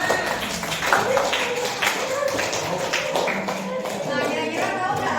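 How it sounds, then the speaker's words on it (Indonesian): Students give group 5 a round of classroom applause, a dense, steady patter of clapping for several seconds with voices mixed in. "Oke, tepuk tangan untuk kelompok 5"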